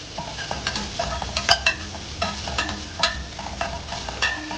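Cooked rice being stirred and sautéed in a pan for an amla rice dish, with repeated scraping and clinking strokes of a spoon over a soft frying sizzle, close up.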